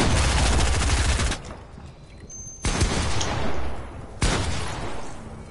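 Pump shotgun blasts in an arena trios video game match: three loud, sharp shots spaced over a few seconds, each followed by a short fading tail, with no talking.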